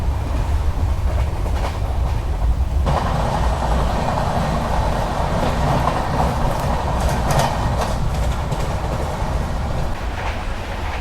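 A train runs along the Konkan Railway, heard from inside as a steady, loud rumble with periodic clattering of wheels on the rails throughout.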